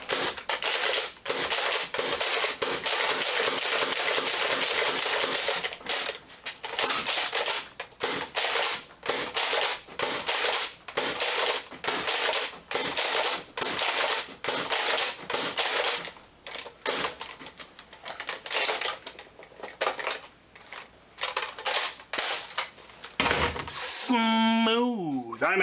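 A Nerf Alpha Trooper spring-powered blaster is fired through a full magazine, giving a rapid run of sharp plastic clacks and mechanical snaps repeating steadily for about twenty seconds, up close and loud.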